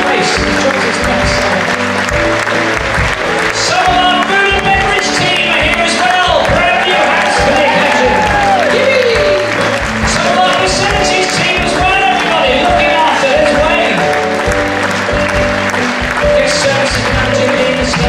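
A cruise ship audience applauds the housekeeping team on the final night at sea, with steady, dense clapping and crowd noise filling the whole stretch while a voice talks over it.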